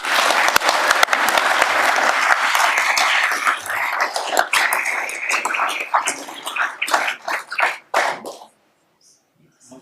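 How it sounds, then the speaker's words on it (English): Council chamber audience applauding honored inductees, a dense round of clapping that thins out and fades to near silence near the end. "One final round of applause"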